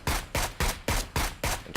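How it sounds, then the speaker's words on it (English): Automatic gunfire in PUBG sprayed into smoke on the Sanhok map: loud, close bursts of shots in a quick steady rhythm, about six sharp blasts in under two seconds. "So what I can do is I can spray that smoke"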